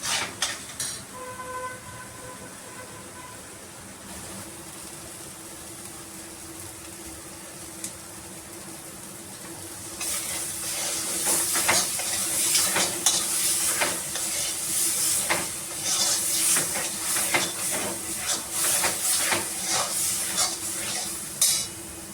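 Green chutney sautéed in a pan, heard as a quiet steady hiss for the first half, then louder, busy sizzling with scraping and clinking stirs taking over from about ten seconds on.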